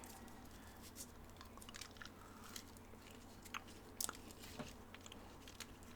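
Airwaves menthol and eucalyptus gum being chewed close up, with soft wet squishy chews and occasional crisp clicks repeating steadily against a faint background hiss.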